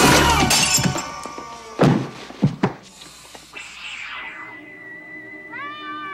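A cat meows in a horror drama scene, its rising, wavering cry appearing near the end after loud crashes and breaking glass, fairly close and alone.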